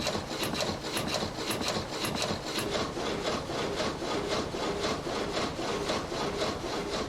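A water-powered sawmill in Trentino, Italy, cuts through wood in quick, regular strokes, a rhythmic rasping back-and-forth that repeats steadily and close by with no pauses.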